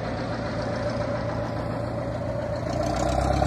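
A steady, loud idling engine rumble runs throughout, near and constant, the airplane waiting at a student pilot's airfield, with a slight swell toward the end.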